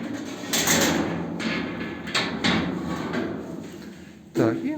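Doors of a Bitek lift slide and bang shut during setup, with a run of clattering, scraping metal sounds and a sharper knock at the end, as voices talk nearby.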